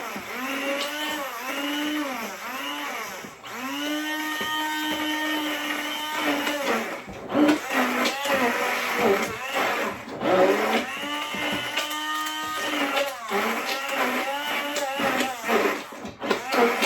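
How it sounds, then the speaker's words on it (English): Electric mixer beating stiff cream cheese for a 1950s lime Jello salad, the motor whining and straining in repeated surges as the load shifts, close and steady with brief dips. "Cream cheese is very hard to mix."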